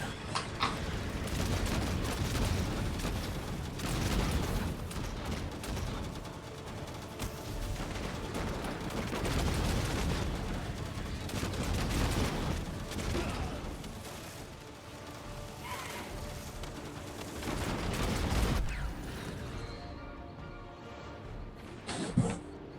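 Gunfire from the gunner seat in a video game, rapid bursts of shots and booming fire running almost without pause for over twenty seconds, dense and loud, easing off briefly near the end.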